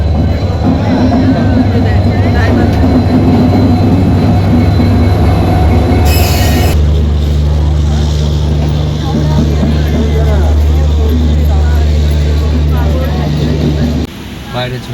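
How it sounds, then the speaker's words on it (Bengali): A train bound for Puri rolls into a station with a steady low rumble and clattering wheels, a brief high squeal partway through, and voices talking faintly underneath. "আমাদের ট্রেন ঢুকছে।"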